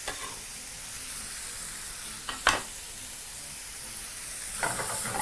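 Chopped ingredients sizzle and hiss steadily in a hot pan over high heat, with a couple of brief stirring scrapes rising above the frying. No one speaks.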